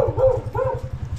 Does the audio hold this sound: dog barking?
yes